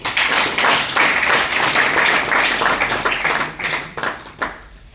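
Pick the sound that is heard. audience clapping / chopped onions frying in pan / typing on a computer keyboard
audience clapping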